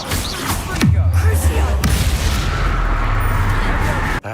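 A Confringo blasting spell goes off in Hogwarts Legacy, a loud booming explosion with a falling low rumble, followed by a second blast and a sustained roaring, crackling tail that fills the rest of the moment.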